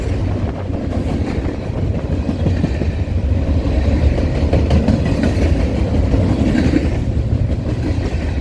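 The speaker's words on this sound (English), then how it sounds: "Not too big a train." Freight train rolling steadily past on a line at Colton, a continuous close, loud rumble of railcars with rhythmic wheel clatter and no voices.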